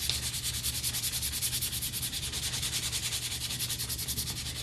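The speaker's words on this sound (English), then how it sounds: "We're going to go after the block with some more sandpaper." Sandpaper rubbed by hand along the edges of a wooden block in a steady, rapid back-and-forth rasp, close and continuous, with no talking.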